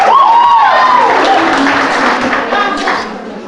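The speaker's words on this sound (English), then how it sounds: "clap for her" Audience applauding at a school education and culture presentation, a steady wash of clapping that starts full and slowly fades over a few seconds, with a high tonal whistle-like sound early on.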